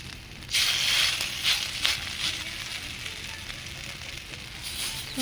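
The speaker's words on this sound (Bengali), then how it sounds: "অল্প তাপ দিয়ে আবারও ভেজে নেব।" Pumpkin flower fritters fry in a pan of oil over low heat, giving a steady, close sizzling hiss with faint crackles that swells slightly after the first half second. No one speaks.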